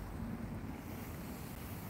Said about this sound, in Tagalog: Tugno kay hangin.